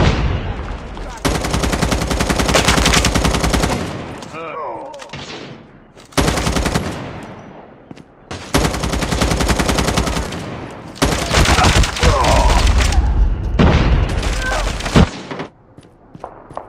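Rapid bursts of automatic rifle fire from an M4 in Call of Duty Mobile, loud and close, long sustained volleys broken by short pauses, with a voice speaking briefly between bursts.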